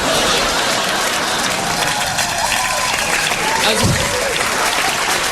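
Audience at an adult comedy show bursts into loud, sustained applause mixed with crowd noise, steady clapping filling the whole stretch.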